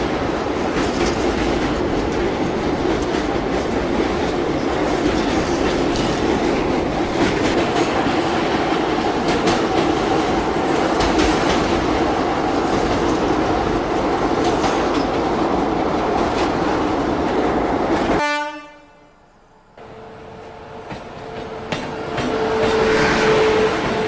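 An Indian Railways train crossing the Tapti River before Bhusawal, a loud steady rumble with rhythmic wheel clatter that carries on for most of the stretch and then cuts off abruptly near the end.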